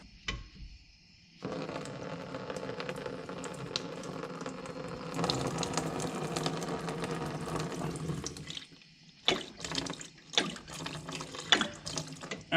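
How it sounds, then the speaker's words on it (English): Waste oil drains from a collection tank in a shop waste-oil filtration setup, a steady liquid pour that runs continuously for several seconds, then breaks into sputtering, irregular splashes as the flow tapers. "So every 50 gallons or so of waste oil, I will actually drain this and see what kind of crap we get."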